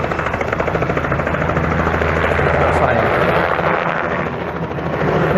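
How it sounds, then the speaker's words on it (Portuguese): Close, loud helicopter passing overhead with rhythmic rotor beating and engine whine, holding steady before easing slightly and then swelling again near the end. "estou passando aqui no helicóptero aqui, o barulho deve estar"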